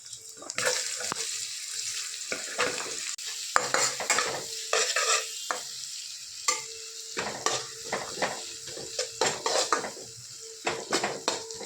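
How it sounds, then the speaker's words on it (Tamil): Garlic and onions sauté in a pan for a yellow pumpkin soup, with a spoon scraping and clinking against the pan in brisk repeated strokes over a steady close sizzle. "வெங்காயம் கொஞ்சம் நல்லா வதங்கட்டும்"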